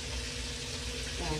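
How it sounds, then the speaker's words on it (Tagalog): Steady broadband sizzling of fish frying in hot oil, close and constant, with a faint low hum underneath. "Para maganda yung pagprito ko ng isda."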